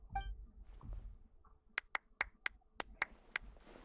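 A character claps in Genshin Impact, a quick run of about eight sharp, evenly spaced claps after a quieter stretch, heard clearly with no talk over it.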